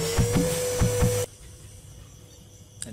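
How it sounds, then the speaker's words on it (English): In the Henry Stickmin video game, a suck pack vacuum whirs with a loud droning suction and a few thumps for about a second, then cuts off abruptly into near quiet. "Let's do the suck pack. It'll vacuum up anything you aim at."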